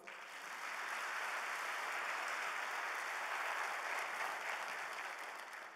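Steady, even applause from a seated audience at a government presentation on corruption risk, a dense wash of clapping that holds at a consistent level throughout with no speech over it.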